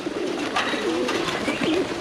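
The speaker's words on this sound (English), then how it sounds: "Look how many birds, guys." Dense flock of pigeons or doves at a temple in Chiang Mai, Thailand, cooing steadily in overlapping low calls with fluttering wingbeats, a busy continuous chorus close by with no one talking.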